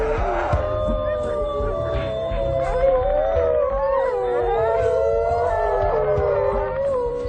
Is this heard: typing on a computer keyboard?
no